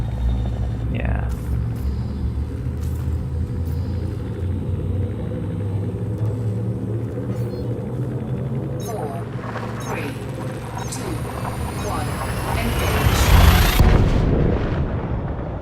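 The frame shift drive of a ship in the Elite Dangerous video game charging up, a deep rumbling drone that builds into a loud surging roar near the end, with someone speaking over it.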